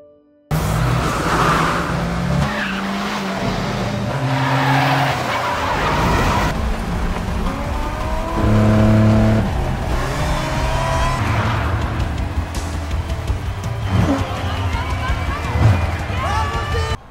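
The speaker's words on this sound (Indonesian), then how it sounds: "Setelah melakukan balapan yang cukup menegangkan" Cars in a film street race roar with revving engines and screeching, skidding tires, loud and continuous, with voices layered over the action.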